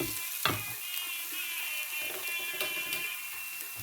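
Beetroot and onion sauté in a pan with a steady close sizzle and frying hiss, broken by a few scraping stirs of a utensil; no voices.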